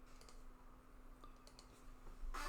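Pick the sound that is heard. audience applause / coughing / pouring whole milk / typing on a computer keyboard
typing on a computer keyboard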